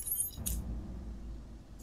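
Keys on a ring with a key fob jangling close by, a quick bright metallic rattle near the start and then a low handling rumble.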